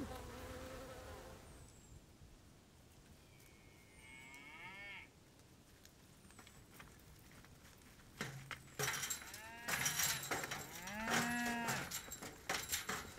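Cattle on a farm let out several drawn-out moos, a few faint early ones and then a louder, closer burst near the end, over a constant hum of buzzing insects and flies with no speech.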